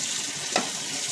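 Wild bee larvae boil in water in a pot, a continuous bubbling simmer with a brief louder pop partway through.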